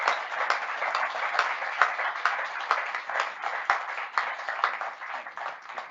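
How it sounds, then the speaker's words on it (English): A crowd at a naval air weapons station gathering claps continuously for a NASA astronaut, an even, sustained round of applause with no voices over it. "one more round of applause for him"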